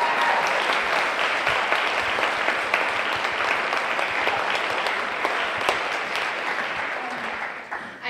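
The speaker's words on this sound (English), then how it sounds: "let's applaud this dress just one more time." Sustained audience applause at a Miss America gown presentation, a dense, loud wash of many hands clapping steadily for about eight seconds before tapering slightly at the end.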